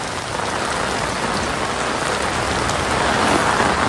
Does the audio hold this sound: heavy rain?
yes